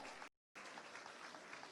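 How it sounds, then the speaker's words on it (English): Applause from an audience at a town hall event, a steady dense patter of many hands that cuts out briefly and then resumes at an even level. "If we can give them a round of applause, please, and say thank you very much."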